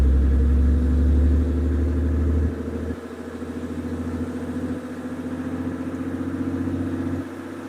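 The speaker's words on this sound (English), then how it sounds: "Truck is running good, sounds good." A 2nd Gen Cummins diesel truck engine with stacks idles steadily, a deep loud rumble that drops slightly in level partway through and carries on alone without any talk.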